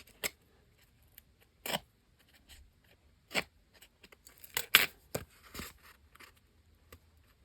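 Scissors trim excess dried tissue paper from a handmade grungy journal tag, giving sharp, close snips: a few spaced single cuts, then a quicker cluster of crisp snips near the end, with quiet pauses between and no talking.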